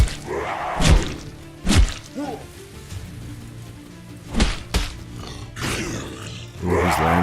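Landfish creatures attacking in a video game, loud roars and heavy thuds striking in irregular bursts with quieter growling between them.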